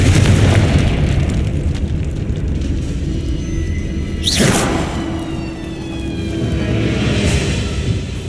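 A Confringo fire spell in Hogwarts Legacy bursts with one loud, booming blast partway through, a quick whooshing flare over a rumbling game soundscape that continues before and after the hit.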